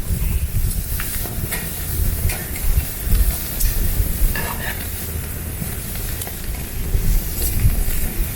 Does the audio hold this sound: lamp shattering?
no